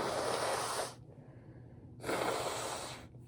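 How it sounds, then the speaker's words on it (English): A person blows their nose after crying, two forceful, breathy blows separated by a short pause, close and fairly quiet. "This is the first time I'm blowing my nose because I was crying"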